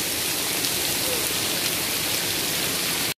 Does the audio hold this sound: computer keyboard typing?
no